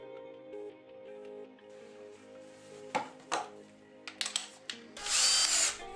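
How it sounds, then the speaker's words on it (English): A power drill driving an Erätapio can sealer, with whirring motor runs, sharp metallic clunks and a loud high burst at the end; no speech. "using a power drill to help is a good idea"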